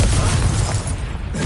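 A loud, close blast from the Confringo spell in the video game Hogwarts Legacy, a short, dense burst of broadband boom that fills the whole moment.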